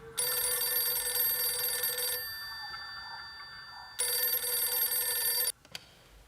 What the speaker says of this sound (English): I was expecting him to go into another verse, not have his phone ring.